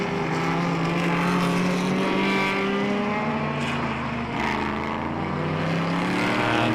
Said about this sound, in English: It's fantastic to see a Ford Lotus Cortina out on the circuit